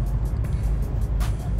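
Road traffic heard from inside a moving car, a continuous loud low engine and tyre rumble with passing vehicle noise, no talk.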